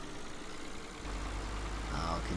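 A farm vehicle engine in Farming Simulator 2013 drones low and steady, rising into a heavier, fuller rumble as driving starts, close and continuous.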